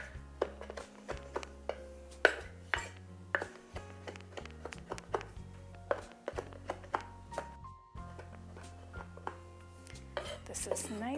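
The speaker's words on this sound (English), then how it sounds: "So we'll chop the rosemary. Make sure it's real fine." Fresh rosemary being chopped finely with a knife on a board, a quick run of sharp taps and knocks in an uneven rhythm, close and fairly quiet, with some clinks of kitchenware.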